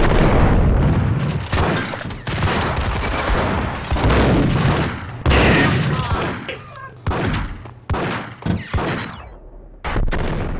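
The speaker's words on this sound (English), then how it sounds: "How did you survive two shotgun blasts to the face?" Shotgun blasts in Max Payne, loud booming shots, several heavy bursts in close succession with short gaps, up front and dominant.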